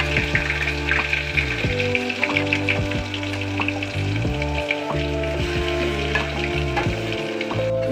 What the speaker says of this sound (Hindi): अब डालेंगे अदरक लहसुन का पेस्ट